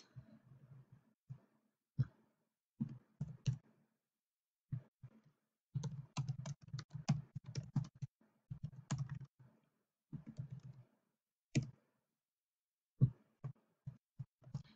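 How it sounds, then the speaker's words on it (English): Keys on a computer keyboard tapped in short bursts and clusters with pauses between, as an email address is entered; close, moderately quiet, no talking. "You'll type in your email address."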